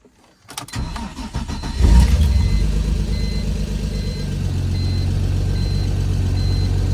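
A BMW S52 engine in a turbocharged E46 cranks and catches on its first start, revving up loudly before settling into a steady, even idle that continues close and alone.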